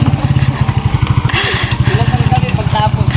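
A motorcycle with a sidecar runs close by with a loud, steady, fast-pulsing engine throb and some rattle, with people talking over it.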